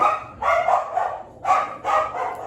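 Dogs barking indoors in four loud, close bursts of yapping that come in quick pairs with short gaps between them, with no other sound.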